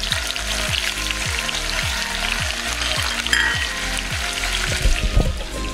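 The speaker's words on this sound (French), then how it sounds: "Je vais mettre mes oignons pour parfumer mon huile. Je mets également le piment pour faire cuire le piment." Onions and chili sizzle and fry steadily in hot oil, with a rhythmic stirring pattern running underneath the close, continuous crackle and no talking.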